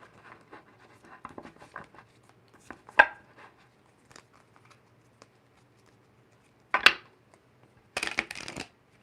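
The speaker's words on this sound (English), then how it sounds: "I try and shuffle these ones" Tarot cards are shuffled by hand: soft, scattered riffles and taps, then a few sharp, louder bursts of cards snapping together, with quiet gaps between.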